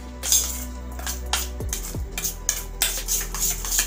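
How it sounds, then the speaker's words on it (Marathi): Tandoori masala spice mixture with red chilli is whisked in a bowl, giving a run of quick clinking, scraping strokes against the bowl sides at close range with no talk. "अशा प्रकारे हे चांगलं मिश्रण अगदी फेटून घ्यायचं आहे"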